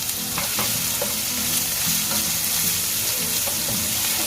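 Crushed garlic and green chili paste sizzles loudly in hot oil in a pan while making Maharashtrian pithla, a steady close frying hiss with occasional stirring scrapes and taps.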